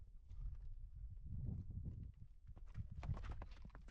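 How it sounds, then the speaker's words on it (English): Wild horses walking outdoors on a spring day, soft uneven hoof clip-clops at close to middle distance, faint and irregular, with no voices. "horses are beautiful to watch."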